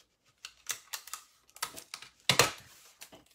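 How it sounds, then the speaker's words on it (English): Short sticky crackles and rips as strips of tape are pulled and pressed onto a homemade paper rain stick, arriving in several quick bursts with brief pauses between them, close and fairly quiet, with no talking. "Tape this first piece down."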